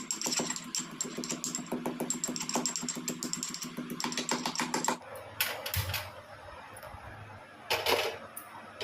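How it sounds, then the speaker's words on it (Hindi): Garlic and ginger being pounded, heard as a quick run of sharp, regular taps up close for about five seconds, then a few scattered louder knocks over quieter background. "तो यहाँ पे मैंने परवल आलू चॉप कर लिए हैं और लहसुन अदरक कूट लूँगी।"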